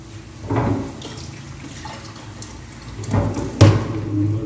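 Chicken pieces are rinsed in a bowl of water in a home kitchen, with a few soft splashes and sloshes close by and quiet between them.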